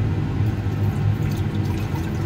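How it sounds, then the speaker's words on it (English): Distilled water poured over refined high-purity gold, a steady low rushing and gurgling flow with a faint rumble, continuous and fairly loud, with no talking. "So we're going to cover this with some distilled water."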